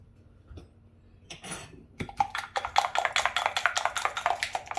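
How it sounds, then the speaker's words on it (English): Sardine meat pie ingredients with sugar and a little milk are mixed in a bowl, giving close, rapid scraping and clinking strokes that grow busier after a brief pause. "I'm going to mix everything together."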